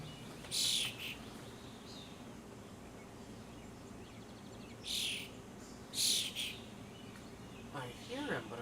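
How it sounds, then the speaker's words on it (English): Small bird chirping close by outdoors, sending short bright bursts of calls at irregular intervals over a quiet background hum. "That bird is like right out there."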